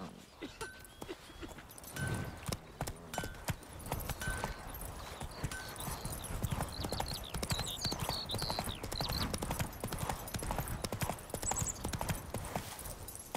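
Roach, a horse in The Witcher 3, gallops with quick, thudding hoofbeats that build into a steady, driving rhythm, close by, mixed with faint ambient game sounds and no voices.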